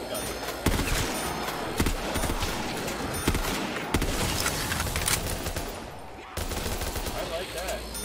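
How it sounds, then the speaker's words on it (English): A makeshift pipe gun fires in a Black Ops III mod zombies map, sharp repeated shots every second or so ringing over busy game noise, with voices talking. "I have a little pipe gun."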